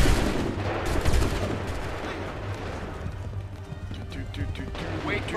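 Musket volleys in the video game Assassin's Creed 3, sharp overlapping gunshot bursts crackling over battlefield din, with shouted commands and voices heard among the shots.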